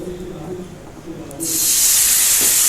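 Hot tempering with fried red chili powder is poured into soybean curry, setting off a sudden loud, sustained hiss and sizzle up close after a quieter moment of low background hum.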